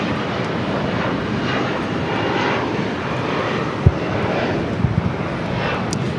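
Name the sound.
Alaska SkyWest Embraer E175LR jet at LAX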